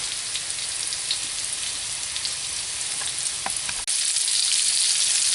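Meatballs sizzle steadily in a hot frying pan, a dense close crackle that briefly cuts out with a click and then returns slightly louder, with no talking.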